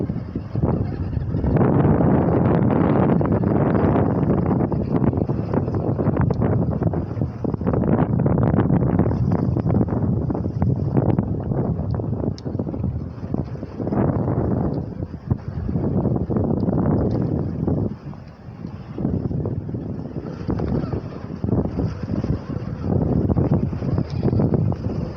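Strong wind buffets the microphone at a lakeshore with big waves, a steady loud roar of gusts and turbulent noise running continuously, with brief dips in intensity, while an Axial SCX10 II RC crawler works along the shore.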